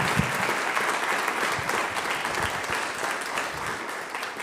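Large conference audience applauding steadily throughout, a dense, even wash of many hands clapping without pause or voices on top.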